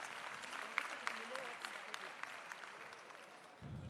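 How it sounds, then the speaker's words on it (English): Delegates at an ANC provincial conference in the Northern Cape applaud the chair, a fairly distant, even patter of many hands with a few sharper claps standing out, fading as a voice begins at the end. "Can we give the Chair another round of applause,"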